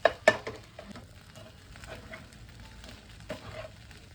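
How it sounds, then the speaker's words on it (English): Corn chaat is stirred in a frying pan, with a soft, low sizzle and a few sharp scraping clatters of the spoon against the pan near the start and again toward the end. "So we are going to stir this."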